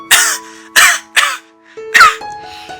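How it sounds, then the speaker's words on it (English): A woman coughing, four harsh separate coughs spaced about half a second to a second apart, close and loud, with a faint steady tone underneath. "She started coughing"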